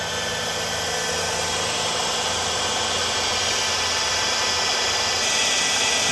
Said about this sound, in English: I'm going to run a facing pass across the entire mating surfaces